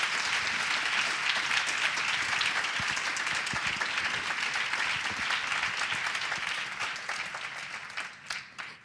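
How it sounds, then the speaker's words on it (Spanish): Sustained audience applause at a farewell tribute for an Auschwitz survivor, dense and steady throughout before thinning out near the end. "os pido un fuerte aplauso para Linda y para Annette"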